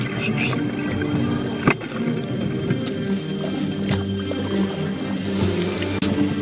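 Indigenous canoe racing on an Amazon river, with a paddle splashing and churning water in a steady rhythm close by, punctuated by sharper strokes, amid faint background voices.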